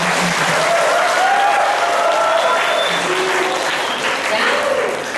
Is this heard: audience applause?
yes